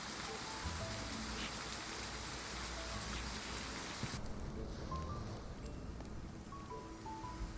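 Steady rain pours outside a cave in the game Love and Deepspace, a continuous broadband hiss of falling drops that carries through the whole stretch, with faint tonal accents drifting above it.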